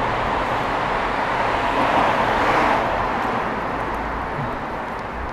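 Steady road traffic roars close by a roadside in Hiroo town, Hokkaido, a continuous broadband rush of passing cars that masks everything else, swelling slightly then easing off.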